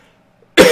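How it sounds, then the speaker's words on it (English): A single sharp cough bursts out after a moment of near silence, close and loud. "excuse me, I got a cough."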